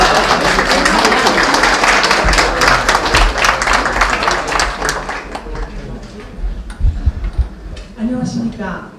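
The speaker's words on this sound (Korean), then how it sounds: "큰 박수로 맞이해주시면 감사하겠습니다" Audience applause greeting a lawmaker who organised a seminar on the 70th anniversary of the Korean War, with steady dense clapping for most of the clip before it thins out near the end.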